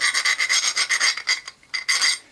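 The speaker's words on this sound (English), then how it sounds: "I'm just going to take a rounded file and just break that edge" A rounded file rasps along the edge of a wooden hatchet handle in quick repeated strokes, close and fairly loud, about a dozen scrapes with a brief pause near the end.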